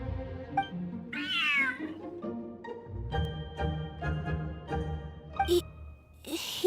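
A cat in the Genshin Impact video game meows several times in clear, rising and falling calls over soft game music, with occasional chimes and effects.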